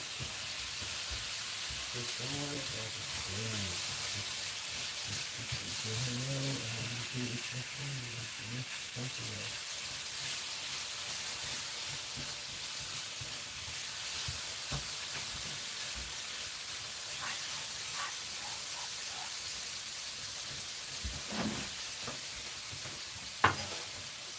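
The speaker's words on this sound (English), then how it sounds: "until the tomatoes have cooked and got a little bit soft" Chopped tomatoes frying in a pan for a breakfast omelette, a quiet, steady sizzle and hiss with occasional stirring scrapes and a brief voice-like murmur early on.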